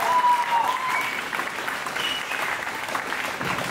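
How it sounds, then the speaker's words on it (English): A comedy club audience applauds steadily for several seconds, a dense even wash of clapping with no voices on top, fairly loud and close throughout. "some of the noises you can make include clapping."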